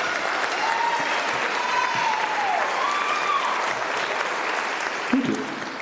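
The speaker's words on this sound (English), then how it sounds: "Let's give them all a round of applause." An audience at a junior high and high school band concert gives sustained, even applause that fills the room, with a few louder claps and a brief knock near the end.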